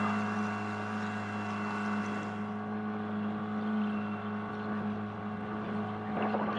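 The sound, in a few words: new Yamaha outboard motor running during break-in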